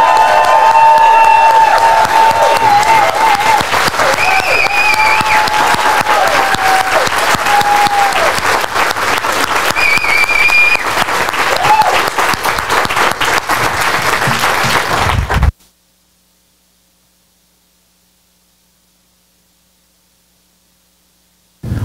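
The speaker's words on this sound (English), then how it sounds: "I think we should give it another massive, big round of applause to Mr. Les Brown." A large audience at a book launch party applauds loudly and steadily for about fifteen seconds for speaker Les Brown, with some cheering mixed in, then the sound cuts off abruptly to silence.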